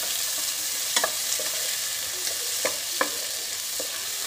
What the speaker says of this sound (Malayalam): അപ്പോഴത്തേക്ക് ടൊമാറ്റോ അരിഞ്ഞിടുക. ഇതും കൂടി ഒന്ന് വഴറ്റുക.